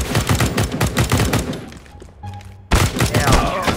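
Rapid bursts of gunfire from the game Counter-Strike: Global Offensive crack loudly and close, with a brief lull before another dense volley erupts.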